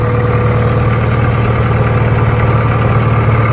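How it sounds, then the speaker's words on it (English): A Honda Integra engine idling smoothly after an idle fix, a loud, close, steady hum with an even low rumble and no variation. "It idles perfect."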